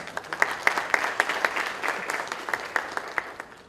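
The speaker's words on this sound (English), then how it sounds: "Let's give him a big round of applause." Applause from a conference audience at an ad:tech event in New Delhi: moderately dense clapping with distinct sharp claps standing out in a quick irregular rhythm, heard at a modest distance.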